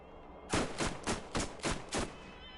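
SMG fire in a video game, six evenly spaced loud, sharp bursts in quick rhythm, close and alone with no talking.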